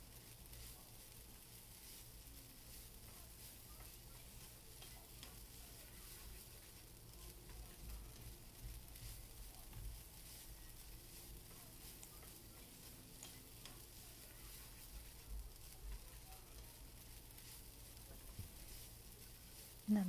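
Dried red chillies fry with coconut in hot oil in a pan for a Thiruvananthapuram-style prawn theeyal, giving a faint, steady sizzle with light stirring scrapes throughout.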